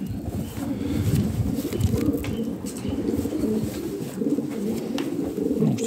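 Pigeons at a pigeon auction coo continuously, several birds overlapping in a steady low murmur of throaty calls, close and moderately loud with no talk.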